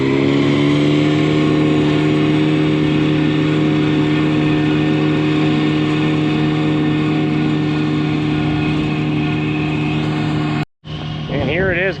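A riding mower engine runs at steady speed while cutting, giving a loud, continuous droning hum close by. Near the end it cuts out briefly before a short burst of other sound.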